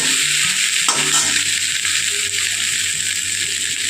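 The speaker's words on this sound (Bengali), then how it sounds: "একটু ভাজা হয়ে গেছে সবজিগুলো" Mixed vegetables fry in a pan, a loud, close, continuous sizzling hiss with a few scraping knocks as they are stirred.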